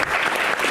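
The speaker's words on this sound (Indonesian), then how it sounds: "Kita berikan tepuk tangan untuk Shirley." Audience applause at a village head candidate Q&A event, a short dense burst of clapping from a crowd, close and steady with no speech.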